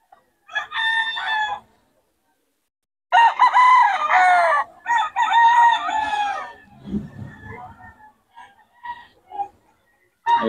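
Gamecocks crow at a busy rooster market, several loud, harmonic crows in close succession, each a few seconds long, with brief gaps and softer clucks and rustling between them.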